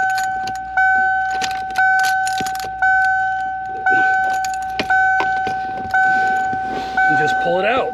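A key is turned and worked in the ignition lock of a 1994–95 Ford Mustang, giving metallic jingles and clicks at regular intervals while a steady two-tone warning chime repeats throughout.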